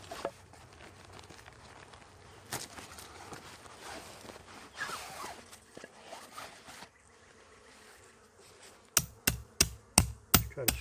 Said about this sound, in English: we'll get our hammer out and try to hammer that chain back down in that